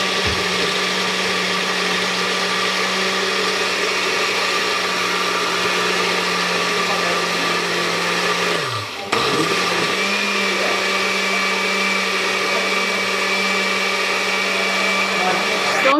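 A kitchen blender with no lid whirs steadily as it blends banana ice cream, then dips in pitch and strains for a moment around the middle before settling back into a loud, even motor hum.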